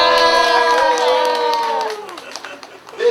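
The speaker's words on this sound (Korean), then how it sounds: "힘찬 박수로 우리 서로에게 격려해 줬으면 좋겠습니다." A crowd at a sit-in protest in Daegu raises a loud, sustained cheer of many voices that fades out after about two seconds, leaving scattered noise and a voice at the end.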